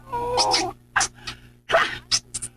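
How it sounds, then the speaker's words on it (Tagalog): A cat meows in a few short, bright calls separated by pauses, close and fairly loud, with no talking between them. "Meow!"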